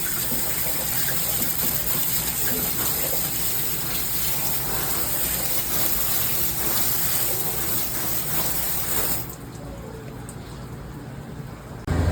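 Water spraying hard and steadily onto a Ford 302 engine during cleaning, a loud continuous hiss and gush that drops to a quieter trickle near the end.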